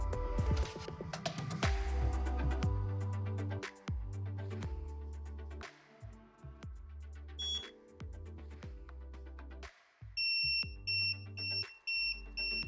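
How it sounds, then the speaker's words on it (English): A BX403 portable gas detector sounds its alarm from ozone exposure, with loud repeating beeps and buzzing tones in an irregular on-off pattern, ending in rapid high-pitched bleeps. "hopefully this alarm goes off"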